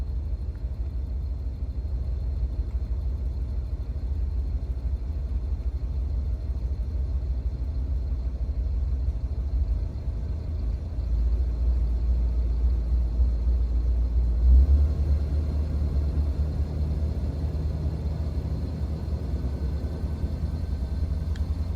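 The engine of a 1983 Ford Crown Victoria runs steadily, a loud continuous low rumble that idles evenly with a slight rise partway through.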